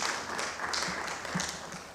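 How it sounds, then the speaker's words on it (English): An audience at a report launch presentation applauds, soft and somewhat distant, with scattered claps forming a thin, even patter. "I think they deserve a very big round of applause."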